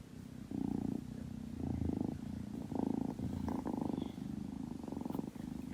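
A cat named Churro purrs on his owner's lap, a close, soft rhythmic purr rising and falling with each breath, steady and unbroken, with no talk.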